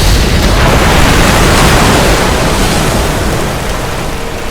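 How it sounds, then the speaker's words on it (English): A great millstone plunges into the sea, a heavy crashing splash rolling into a loud, sustained wash of surf and churning waves that slowly fades. "A mighty angel took up a stone like a great millstone and cast it into the sea."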